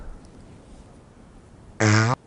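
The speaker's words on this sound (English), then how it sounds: "Fart." A single loud, buzzy fart bursts out for about a third of a second after near silence, standing alone without any talk over it.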